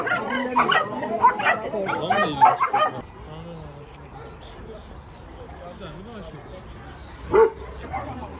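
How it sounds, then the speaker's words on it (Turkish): Several shelter dogs bark and yip close by in a busy burst, then quieter whimpers and a single sharp bark follow over background murmur. "buradan fotoğraflar hep de bu gelen köpeklere çekiliyor"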